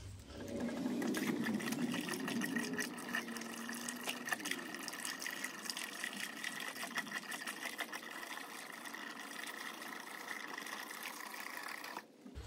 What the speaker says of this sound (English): So let's get the transmission rear end filled up with diesel.